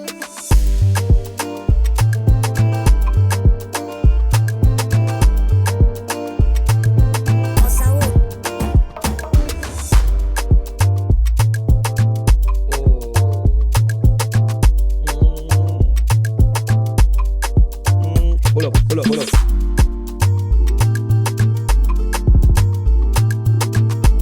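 An Afrobeats beat made in FL Studio plays loud and continuous, a punchy kick and deep bass pulsing in a steady looping rhythm beneath layered melodic parts.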